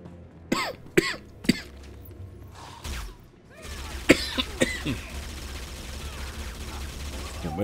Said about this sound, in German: Husten wird gerade irgendwie schlimmer.